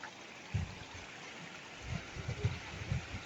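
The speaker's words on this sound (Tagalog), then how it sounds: "Ang ganda ng Batis." A mountain stream trickles and gurgles softly and steadily over rocks nearby, with no talk.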